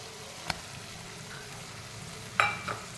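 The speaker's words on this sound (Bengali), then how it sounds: "খসটাটা দিয়ে ভালো করে ভেজে নেবো আমটা।" Mango peel frying in a pan makes a soft, faint sizzle, broken by a couple of brief utensil clinks near the start and end, with no voices.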